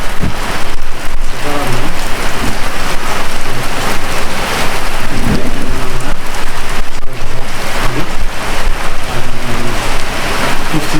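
Heavy rain falling steadily and loudly on a surface nearby, a dense continuous hiss with patter throughout and no voices.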